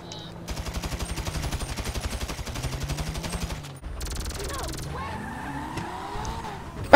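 Rapid automatic gunfire in the GTA video game, a long fast burst of evenly spaced shots, then a pause and a shorter burst, with engine and skidding noise underneath and a voice heard briefly.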